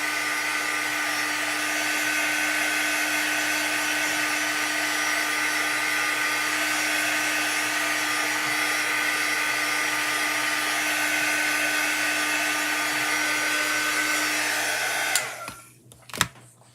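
A handheld heat dryer blows steadily and loudly over freshly inked chalk transfer work, a constant whooshing roar that holds for about fifteen seconds before switching off with a few clicks.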